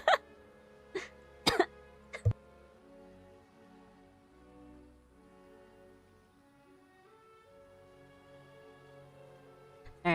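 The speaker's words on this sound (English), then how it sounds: "I started coughing." A person coughs during a livestream of the game Paranormasight: The Mermaid's Curse, with several short, sharp coughs close to the mic early on, a quiet stretch with game music underneath, then a faint final burst.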